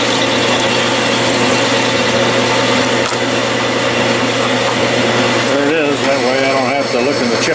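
A metal lathe parts off a small piece of stock 3/16 inch thick for a wobbler steam engine, giving a steady loud motor drone and cutting whine throughout, with a wavering scrape near the end.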